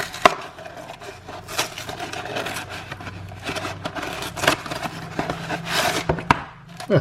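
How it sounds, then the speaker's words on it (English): Knife cutting the plastic film off a Banquet Mega Meals frozen tray before it goes in the microwave: close, irregular scraping, tearing and crinkling strokes with sharp clicks, heard alone. "So I'm gonna cut the plastic from the potatoes and get it in the microwave"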